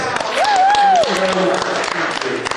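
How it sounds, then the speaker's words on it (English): Comedy club audience applause at Gotham Comedy Club in New York, brief scattered clapping and crowd noise mixed with a voice and some whooping, lasting a couple of seconds. "Please give me a little bit of applause for him."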